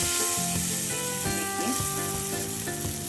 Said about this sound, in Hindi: तो अभी हम इसके ऊपर तड़का डाल देते हैं।